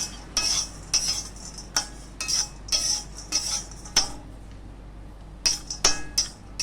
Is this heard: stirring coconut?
yes